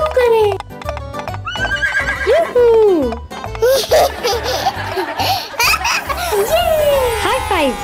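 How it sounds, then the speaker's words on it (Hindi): Repeated loud whinnies and neighs from a small pony on a farm, with rhythmic hoof clip-clop underneath and children's laughter and giggles mixed in throughout. "ये कौन है? छोटा घोड़ा।"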